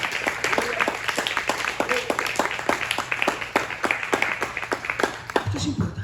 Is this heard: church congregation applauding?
yes